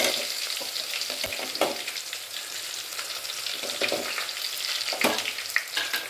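Onions frying in oil in a pan for dondakaya (ivy gourd) biryani, a steady loud sizzle and crackle with occasional stirring clinks, close up and without talk.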